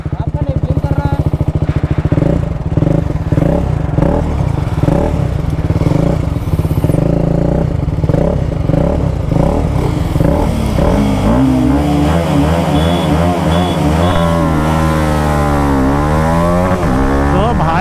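A TVS RR310 and a BMW G310 RR race side by side in a drag race, their engines revving hard through repeated gear changes. The loud, rising and falling whine sits close to the microphone and runs continuously throughout.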